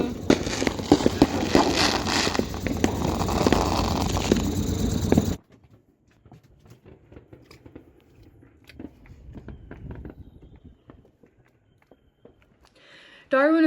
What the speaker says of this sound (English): watching the giant fireworks reflected in the water